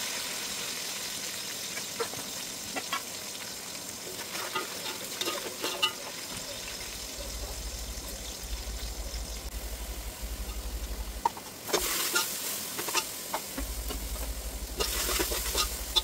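Onion and green chilli fry in hot oil for mutton pulao, giving a constant close hiss with occasional stirring clicks, brighter sizzling bursts and a low droning hum in stretches underneath, no talking.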